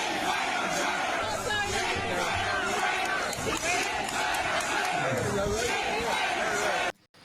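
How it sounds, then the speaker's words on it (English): At an anti-immigration protest by the Dublin quays, a large outdoor crowd shouts and yells in a loud, continuous roar of mixed voices that cuts off abruptly at the end. "So this is the crowd down by the quays where the parade kind of finished."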